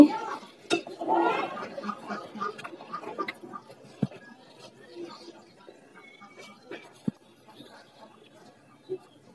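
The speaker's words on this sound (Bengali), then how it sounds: "যেহেতু গরম, তো আমি হাত দিয়ে না মেখে এটাকে একটা চামচের সাহায্যে মেখে নিচ্ছি।" A metal spoon mixes hot rice-flour batter for chitoi pitha in a bowl, giving irregular close scrapes and light clinks, with a few sharper taps against the rim, fading to softer stirring.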